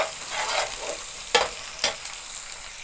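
Onions fry for a fish pulusu curry, a light sizzle under two sharp spoon-against-pan stirring knocks in a short burst.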